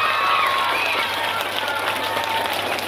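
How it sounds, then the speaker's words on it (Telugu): A school audience at a children's day celebration claps steadily and loudly, a dense wash of applause with crowd murmur that fills the whole short stretch. "ఒకసారి ఎనర్జెటిక్ అందరూ క్లాప్ కొట్టండి"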